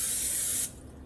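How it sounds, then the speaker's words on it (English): Canola oil cooking spray hisses onto a baking pan in one close, loud burst lasting about half a second, then stops abruptly. "I'm gonna go ahead and spray my pan a little bit"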